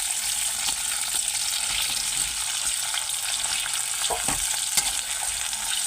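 Chopped onions sizzle and crackle steadily in a hot pan as they are stirred, with scraping touches of the spoon, for a light chicken and vegetable curry; the frying noise is continuous and close, with no talking.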